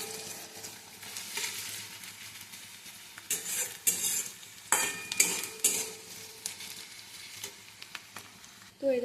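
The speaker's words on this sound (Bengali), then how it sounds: "পেঁয়াজটা আমি ভেজে নিচ্ছি, লাল লাল করে ভাজে" Onions frying in a pan until reddish, with a low steady sizzle, intermittent scraping and clattering strokes of a spoon against the pan, and a few metallic knocks toward the end.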